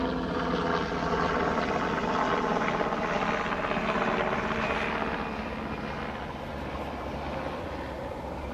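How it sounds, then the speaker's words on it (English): A helicopter passes overhead with a steady, loud rotor and engine roar that holds for several seconds, then eases slightly as it moves away, with no talking over it. "the helicopter is flying over me"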